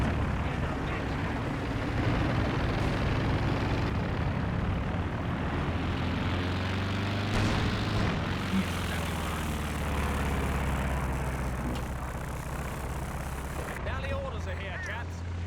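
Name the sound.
recon plane flying overhead in Company of Heroes 2 video game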